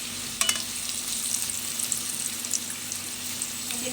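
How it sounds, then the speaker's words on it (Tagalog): Potatoes browning in a pan with a steady broadband sizzle and crackle, plus a faint constant hum underneath and a couple of sharper pops early on, no voices. "Fry po muna natin ng konti itong patatas."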